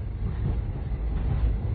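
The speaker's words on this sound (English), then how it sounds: "I'm on the golden chariot train." The interior of the Golden Chariot luxury train in motion gives a steady low rumble with soft rolling texture, continuous and close.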